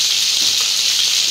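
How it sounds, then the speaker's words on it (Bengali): Strong wind blowing outside, a steady loud broadband rush that fills the whole stretch without pause, sounding like close buffeting gusts against a microphone. "হাওয়ার কি আওয়াজ আজকে?"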